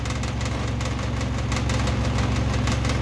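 A washing machine spinning at 1400 rpm hums with a steady droning motor and a fast, regular rattling vibration. The sound is loud and continuous, with no talking.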